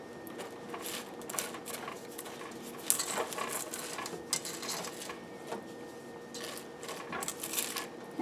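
Spoon scraping and stirring sticky Rice Krispie treat mixture in a metal pot, a steady patter of soft clinks and scrapes with occasional sharper knocks, close and moderately quiet with no talking.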